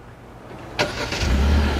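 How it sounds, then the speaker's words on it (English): A 2021 Kia K5 started by remote auto start: quiet lead-in, then a sharp crank catches and settles into a loud, close, steady idle. "Now the vehicle's running."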